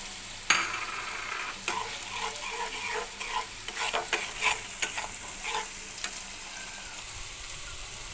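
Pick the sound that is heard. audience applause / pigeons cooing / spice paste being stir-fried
spice paste being stir-fried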